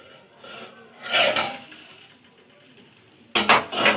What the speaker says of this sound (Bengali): এবারে চাপাটা খুলে নেবো